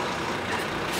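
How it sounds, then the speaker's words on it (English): A concrete mixing lorry with its spinning drum produces a dense, steady heavy-vehicle rumble and hiss, loud and continuous for about a second. "It's a concrete mixing lorry."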